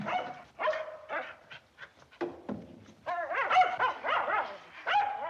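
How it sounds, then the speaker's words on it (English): A dog barks, yelps and breaks into mournful howls indoors on a cold night, a string of loud, close calls rising and falling with short gaps between them. "Let him howl if it makes him feel good."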